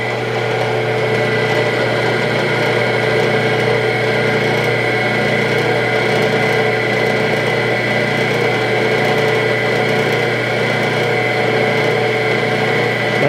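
A steady, loud machine drone with constant mechanical hum and whine runs without pause as a drill cuts a hole through steel.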